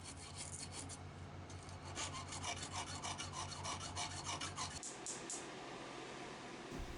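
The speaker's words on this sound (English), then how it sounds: "I'll wrap a piece of 500 grit sandpaper around a pipe and just use that radius" A hook knife blade is sanded with 500 grit sandpaper wrapped around a pipe, giving a steady close-up rasping rub in repeated strokes for several seconds, with a low hum underneath.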